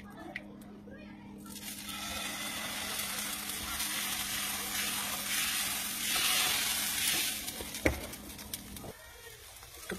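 Dosa batter hits a hot tawa, a broad hissing sizzle that swells mid-clip, holds steady, then fades, with scattered clicks and a sharp knock near the end.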